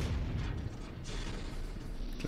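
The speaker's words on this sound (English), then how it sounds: "It's way too far for missiles, but I'll shoot anyway." Missiles fired in the video game MechWarrior 5, a dense rumbling barrage of launches and booms filling the whole short stretch at steady loudness, no talking.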